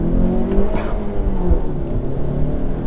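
Modified Honda Civic hatchback engine revving hard and pulling through acceleration, a loud, close drone with rising and falling pitch and no talk over it.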